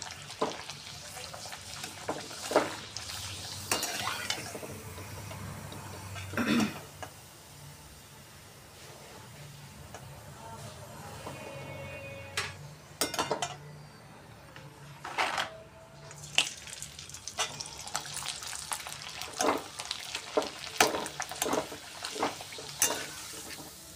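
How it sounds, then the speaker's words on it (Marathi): Potato and sabudana papad deep fry in hot oil, giving intermittent bursts of bubbling and crackling over a low background hiss, with occasional clatter from a pan or utensil. "आता आपण हा पापड तेलामध्ये तळून घेणार आहे."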